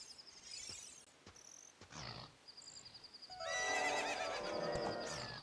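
A horse in the game The Legend of Zelda: Ocarina of Time gives a loud, drawn-out whinny late on. Before it come faint game chimes and quiet rhythmic hoof sounds.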